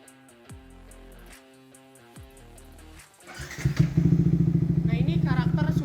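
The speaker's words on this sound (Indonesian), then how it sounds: "Nah, ini karakter suara pakai DB killer." Yamaha R15 V3 motorcycle with an R9 H2 exhaust and dB killer fitted: a couple of low engine blips, then it fires up into a loud, close, rapidly pulsing idle with sharp revs.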